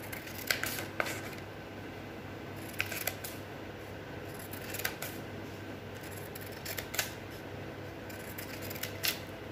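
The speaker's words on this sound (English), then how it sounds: "We'll leave the center blocks and we'll cut from both sides." Scissors snip through paper while cutting from both sides of a paper basket, producing a scattered series of short, crisp cuts close by with quiet pauses between them.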